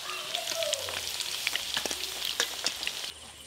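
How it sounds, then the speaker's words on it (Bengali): Meat pieces frying in a pan for fried rice and chilli chicken, a steady close crackling sizzle with scattered pops throughout, with no talking. "মাংসগুলো একটু বেশ লাল লাল করে ভালো করে ভেজে নিয়েছি"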